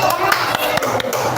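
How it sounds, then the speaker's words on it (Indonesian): A classroom of young children clapping for a group, a quick burst of uneven hand claps close by with faint voices mixed in. "Tepuk tangan buat kelompok Jena."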